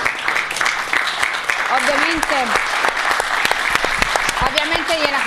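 Applause from an audience during a football tribute ceremony: sustained clapping throughout, with someone speaking over it and brief rising vocal sounds in the middle, moderately close.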